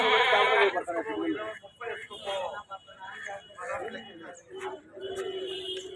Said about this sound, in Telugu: ఈ పక్క పొట్టేళ్ళు ఉన్నాయి.